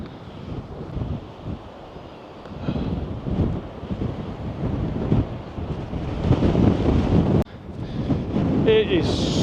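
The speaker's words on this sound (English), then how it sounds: "it's just far too windy for that" Strong wind roars and buffets the microphone continuously on a cold, exposed height in Scotland, a heavy low rumble that intensifies over time, with brief mechanical beeps near the end.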